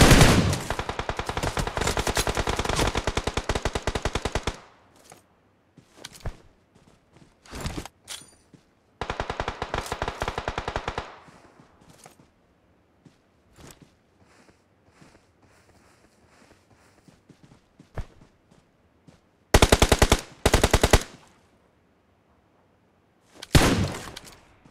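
Automatic gunfire in the battle royale game BGMI, loud sustained bursts of rapid shots at the start, more short bursts in the middle, then scattered single shots and two brief bursts near the end, with quiet gaps between.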